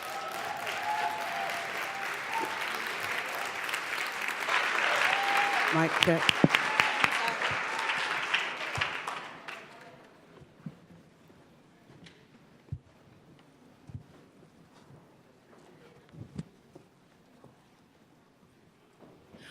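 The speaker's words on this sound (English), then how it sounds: "Let's give a big round of applause for Sankofa." A school event audience claps loudly, the applause swelling for several seconds and then fading into scattered claps and handling noises, with a few words spoken over it.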